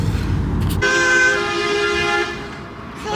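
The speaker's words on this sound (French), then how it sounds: "Il klaxonne, il klaxonne." A car horn honks in one long, steady, loud blast lasting over a second, over a background of passing road traffic, with a brief voice just before it.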